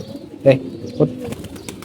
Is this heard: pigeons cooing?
yes